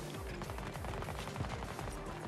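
Rapid automatic gunfire from a weapon in the shooter game Battlefield 2042, a fast steady stream of shots at moderate level with a dense layer of game noise underneath and no speech.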